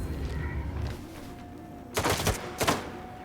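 Two bursts of gunfire from the video game Duga, close and loud, arriving in quick succession after a quiet, low rumbling stretch.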